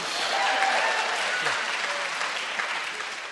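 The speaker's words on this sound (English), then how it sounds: "They wanted to applaud and you interrupted. Go ahead, lady, applaud." Audience applause during a church-style talk on marriage: steady, dense clapping filling the whole stretch at an even level, with faint voices mixed in.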